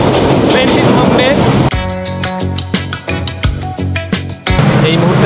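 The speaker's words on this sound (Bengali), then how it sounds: "নোয়াপাড়ায় ট্রেনটি থামবে।" The Chitra Express running on the rails on the Khulna route makes a loud rumble that breaks into a rhythmic clickety-clack of wheels over rail joints, then returns to a steady roar.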